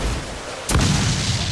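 A single heavy ship cannon blast from Assassin's Creed IV: Black Flag, a sharp broadband boom that gives way to a sustained low rumble, loud and close with no voices.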